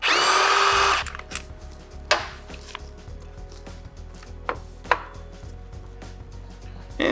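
A power tool spins out the 50 Torx brake caliper bolts on an RX6 sport touring motorcycle, with a loud whir at the start and a few sharp clicks and clanks of metal afterward, close by with no talk.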